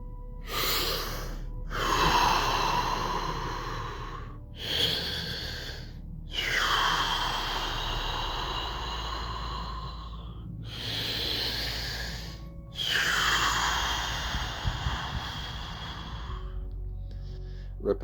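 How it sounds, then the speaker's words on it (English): Wim Hof method breathing demonstrated by one person: a series of deep, forceful breaths in and out through the nose and mouth, close and fairly loud, with short pauses between the longer airy cycles. "It's called the Wim Hof breathing method. And this technique, I'll demonstrate it."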